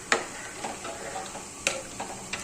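Masala paste dropped into chicken curry sizzling in a pressure cooker pan, with sharp clatters of a spoon stirring against the pot over a steady fry hiss.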